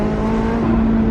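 McLaren 600LT engine droning steadily at close range, a loud, rough mid-pitched exhaust note with crackling texture rather than distinct separate backfire pops, no voices.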